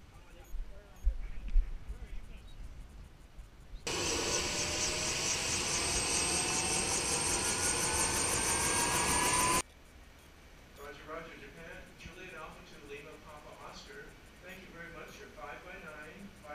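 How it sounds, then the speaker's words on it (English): A helicopter arrives at the Navassa Island DXpedition site, its rotor and engine roar loud and steady for several seconds before cutting off, with quieter ambient noise and talking around it. "here's the last helicopter in to take the last three of us off"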